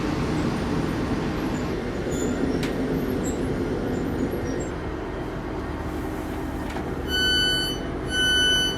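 A train rumbles steadily close by, a low continuous roar, with thin high metallic squeals of wheels ringing out near the end.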